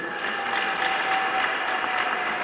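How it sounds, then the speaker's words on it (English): Delegates at a Ketu North constituency gathering clap for their chairman, a dense, even burst of applause that fills the room, with no talk over it. "A clap for chairman before I continue."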